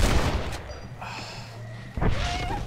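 Two loud gunshot blasts from Red Dead Redemption, one at the start and one near the end, with quieter game sounds between them.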